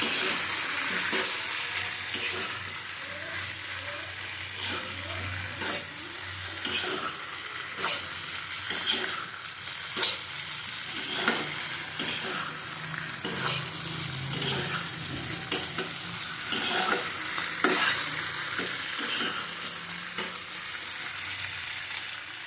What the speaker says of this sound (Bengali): মশলা দিয়ে ভালো করে কষাতে হবে আবার।